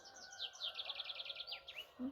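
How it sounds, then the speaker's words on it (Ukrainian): A small bird sings outdoors in spring among blooming chestnut trees, giving a quick, steady run of bright, repeated chirps close by, with no talking. "Пташка яка наспіла."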